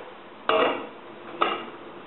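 A pot lid clinks twice as it is lifted off a pot of simmering marinara sauce, two short metallic knocks about a second apart, close and fairly loud over a quiet kitchen background.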